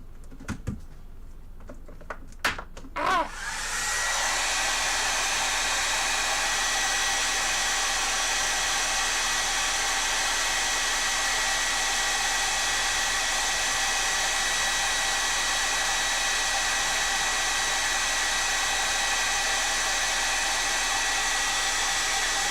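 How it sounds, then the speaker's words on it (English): A hair dryer blows over a freshly drawn lung sketch: a few light taps and clicks, then the dryer switches on and holds a loud, steady roar to the end. "I think I am going to hair dry it."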